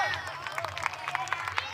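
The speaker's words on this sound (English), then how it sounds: "He gets a good clap from the cricket school kids" Light applause from cricket school kids in the crowd at a European Cricket League match at Cartama Oval in Malaga, Spain, a brief scattered patter of claps under a commentator's voice.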